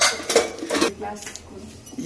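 Dishes being washed by a blindfolded woman in a home kitchen, with a few close clinks and clatters of pots and cutlery under nearby talking.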